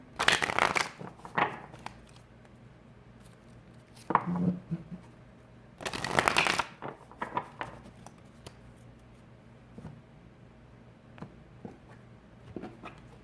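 A tarot deck is shuffled several times in short bursts, crisp riffling close by, with quiet handling sounds and pauses in between.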